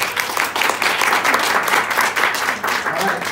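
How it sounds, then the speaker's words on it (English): An audience at a business presentation applauds as a guest is invited on stage, a dense continuous clapping that stays loud and even throughout, with voices mixed in. "can we have a round of applause for Angel?"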